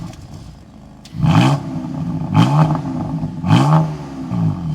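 BMW F80 M3 straight-six exhaust revving three times in quick succession, each a loud rising snarl that falls back to a steady idle, recorded close with no talk.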